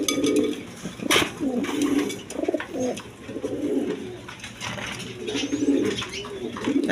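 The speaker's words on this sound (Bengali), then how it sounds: "এখানে এক পেয়ার বিউটি কবুতর আছে হোয়াইট কালারের মধ্যে জার্মান বিউটি" A pair of white German Beauty pigeons cooing close by, repeated soft throaty coos in short phrases with brief gaps, over faint background noise.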